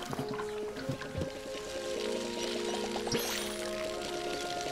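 Water trickles from a watering can onto plants in the video game Palia, a soft, steady pouring under light melodic game music with plucked notes throughout.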